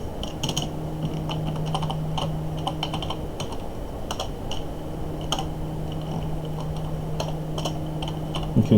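Someone types on a computer keyboard while writing shader code: a continuous run of irregular, close clicks and key taps over a faint steady hum, with no talking.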